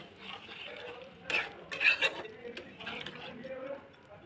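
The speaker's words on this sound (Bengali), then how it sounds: "এবার একটু ভালো করে নাড়ি চাড়িয়ে দেবো।" Chicken curry stirred in a pot just after water goes in, a few close scraping and clinking strokes of a spoon against the metal over a soft simmer.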